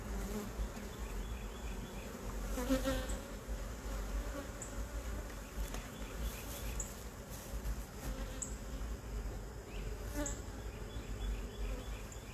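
Honey bees buzz steadily around backyard beehives, a dense, continuous drone of many insects close by, with no talking over it.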